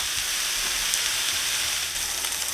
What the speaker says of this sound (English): Now we want to cook this until the eggplant is nice and tender.